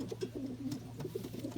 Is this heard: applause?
no